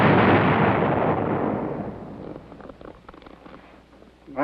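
Artillery rounds explode in wartime combat, a loud booming blast that rumbles and slowly fades over several seconds into a distant, crackling tail.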